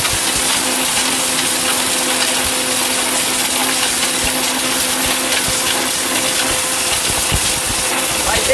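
Loud and near, a steel-bodied electric blender runs continuously, its motor whining evenly while contents rattle and knock inside the jar, with no speech over it.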